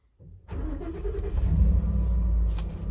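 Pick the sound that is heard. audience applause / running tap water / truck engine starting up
truck engine starting up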